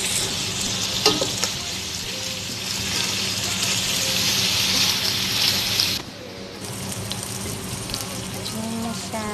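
Onion and garlic sautéing in a pan, a steady close sizzle with stirring scrapes that drops briefly quieter near the end before resuming.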